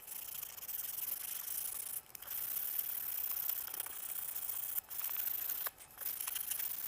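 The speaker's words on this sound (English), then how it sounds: "So we're here with a bit of 120 grit emery cloth," Steady hissing abrasion of 120 grit emery cloth with a little WD-40 rubbing rust off a tractor front wheel bearing on a 2025 International 684, continuous with three brief pauses, no talking.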